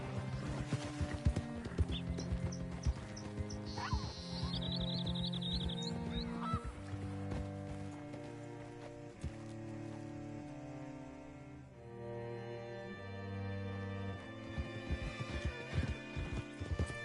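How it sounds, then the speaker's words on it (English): Horse hooves clip-clopping in Red Dead Redemption 2, a steady trotting rhythm under a swelling musical score, with brief honking bird-like calls partway through. "Hitch your horse up here."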